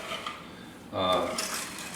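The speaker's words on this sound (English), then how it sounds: "So let me get a big spoon for that." Metal kitchen utensils clink and rattle as a big spoon is pulled out while caramel icing heats on the stove, a short bright clatter rising after a quiet start and carrying through to the end.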